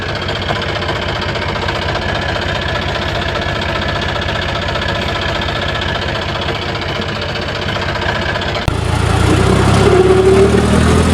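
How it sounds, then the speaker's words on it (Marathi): A tractor engine idles close by with a steady, rapid knocking throb that holds evenly before a sudden rise in noise near the end. "बघू शकता आपला ट्रॅक्टर"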